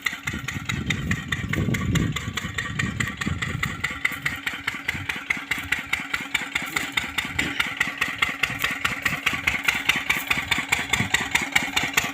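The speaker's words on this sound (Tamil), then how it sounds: "வாங்க இன்ஜின் அனுப்பலாம் கிணறு இன்ஜினை தான் பார்க்கலாங்க" A well water pump engine runs steadily in a farm field watering an okra crop, a loud, close mechanical idle with a rapid, even chugging pulse throughout.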